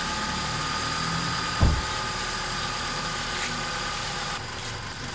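A car engine idles with a steady low hum, a single dull thump partway through and a few faint clicks near the end.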